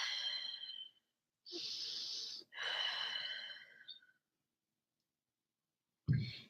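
Slow, deep nasal breathing during a morning yoga pose, several long audible inhales and exhales separated by quiet pauses, close and clear, ending with a short rustle.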